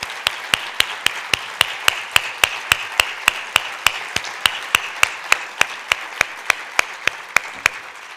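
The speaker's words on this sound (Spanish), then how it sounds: "Solicito, por favor, un aplauso para todas estas iniciativas y sus protagonistas" Audience applause at the opening of a social inclusion conference, a continuous bed of crowd clapping with one nearby person's sharp, evenly spaced claps standing out in a steady rhythm throughout.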